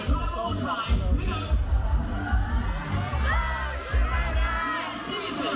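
A crowd at Alton Towers Oktoberfest cheers and shouts loudly, with children's whoops and yells rising in repeated surges, and a host's voice heard amid the noise.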